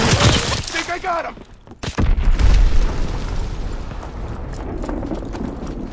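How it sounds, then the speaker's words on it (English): A Fritz X guided bomb detonates in the Call of Duty WW2 video game, a loud booming blast with shattering debris around the two-second mark, followed by a rumbling decay and faint talk beneath. "Fritz X bomb mission underway"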